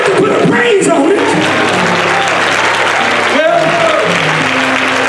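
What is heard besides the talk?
congregation clapping hands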